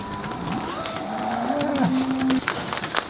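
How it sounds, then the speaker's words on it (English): Angus cattle in a farm shed lowing, with a couple of drawn-out moos rising and falling over a busy barn background. "just waiting on the last batch of cows to come from the front shed"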